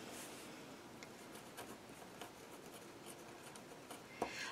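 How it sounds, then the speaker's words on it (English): A pen scratches a name onto a small piece of paper in soft, irregular strokes with brief pauses, close and quiet, ending with a light tap. "I'm just going to write my name."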